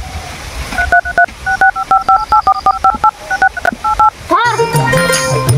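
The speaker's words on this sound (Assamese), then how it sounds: "মই ফোনটো কৰি লওঁ" A phone number is keyed in on a telephone as a quick, uneven run of loud dialing beeps, followed by a brief voice.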